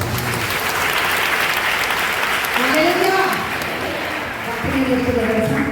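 Church congregation at Gudivada RCM Church applauding, a steady wash of clapping filling the hall for several seconds, with speech-like tones rising over it midway and again near the end.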